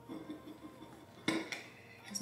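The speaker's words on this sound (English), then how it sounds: "I'm going to use a bread knife to slice this because I feel like it just keeps the tortilla shell together better." A bread knife slices through a rolled tortilla pinwheel in a home kitchen, giving soft sawing scrapes, with one sharper knock of the blade against the board midway and a few lighter taps near the end.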